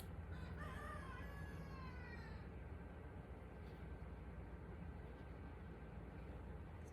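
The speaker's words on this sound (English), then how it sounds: "the birds want to do a lot of extra squawking in the morning and in the evening" Bird calls in the evening, with a rooster-like crow and a few clucks early on, then faint chirps over a steady broad outdoor hiss.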